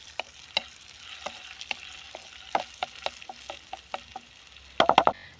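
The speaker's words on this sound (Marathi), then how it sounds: "आता आपली मिरची देखील चांगली अशी तळली गेली आहे" Coarsely pounded chillies frying in oil on a griddle pan outdoors in a farm field, a quiet sizzle under a series of crisp spatula taps, ending in a quick burst of clinks.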